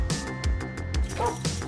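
A dog in the video game Rewind or Die gives a rapid run of close, punchy barks and yips in a steady rhythm, repeated about eight times.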